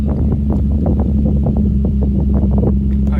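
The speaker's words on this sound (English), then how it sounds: "It is a cold start. The car is completely cold." Nissan 350Z engine idling just after a cold start, a loud steady low rumble with rapid uneven pulsing, close to the microphone and without talk.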